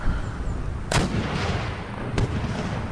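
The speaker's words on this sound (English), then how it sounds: "You're shooting at my general." Gunfire during an Empire: Total War siege battle at Damascus: two heavy booming shots about a second apart, loud over a constant rumbling battlefield din.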